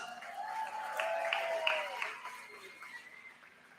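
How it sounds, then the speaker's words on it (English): A crowd at a roller derby bout held in the Palm Springs Air Museum applauds volunteers, moderate scattered clapping with cheers and whistles, swelling then tapering off toward the end. "Please give them a round of applause."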